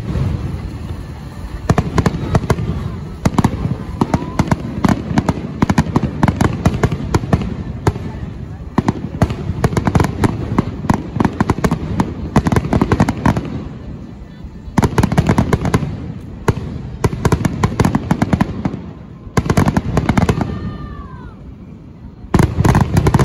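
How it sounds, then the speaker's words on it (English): Fireworks show at Six Flags Great Adventure amusement park at night, with dense rapid bursts and crackling pops echoing loudly for most of the span, broken by brief lulls, with crowd voices mixed underneath. "We just finished watching that fireworks show."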